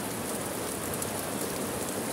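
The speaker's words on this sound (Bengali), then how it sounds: "দেখেন কি সুন্দর বৃষ্টি হইতেছে" Steady, dense rain pours down in a continuous hiss, close by and fairly loud, with no voices.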